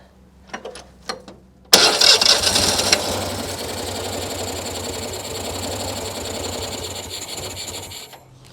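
Engine of an 18 hp vehicle being adjusted: a couple of clicks, then the motor catches abruptly and runs with a loud, steady, rough rattling drone close by, easing slightly before cutting off near the end.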